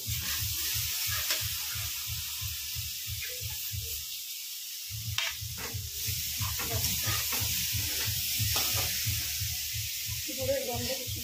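A jaggery mixture sizzles in a small wok while a spoon stirs it in a steady, rhythmic scraping beat. A soft frying hiss runs underneath, and people talk nearby.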